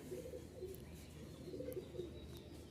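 Soft, low cooing from a female tumbler pigeon, a few gentle murmuring phrases rising and falling close by, steady throughout with no speech.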